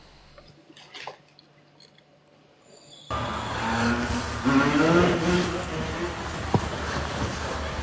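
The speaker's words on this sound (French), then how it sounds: "il y a des motos qui passent" Motorcycles pass by outdoors: quiet at first, then a sudden loud engine and road rush rises and holds, with the engine pitch shifting as the bikes go past.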